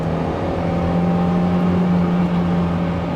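A Mazda Miata engine drones in a steady, loud hum from inside the car, holding a sustained tone with a faint rise in pitch and no voices.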